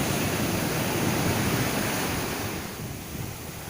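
Storm-driven surf and strong gusting wind at Pantai Cemara Indah beach in Aceh Singkil, a loud continuous roar of waves and wind noise that eases slightly toward the end, with no voices.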